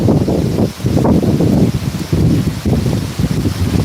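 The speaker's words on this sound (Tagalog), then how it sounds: "Ito yung ulan." Typhoon Uwan in Eastern Samar sends strong wind and heavy rain roaring in loud, rough gusts that surge and ease, with no talk over it.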